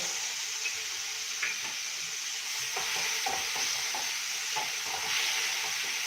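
Garlic, green chili and ginger paste fry in a pan for a spinach vegetable biryani, a steady soft sizzle with occasional stirring scrapes and clicks, fairly quiet and with no talking.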